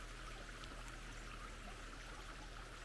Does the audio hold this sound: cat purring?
no